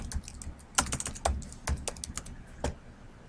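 Keys on a computer keyboard are tapped in a quick, uneven burst of crisp clicks close by while a word is entered into a dialog box in a word-processing program.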